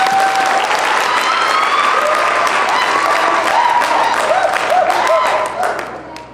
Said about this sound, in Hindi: ग्रेट, एक जबरदस्त ताली बजाइए।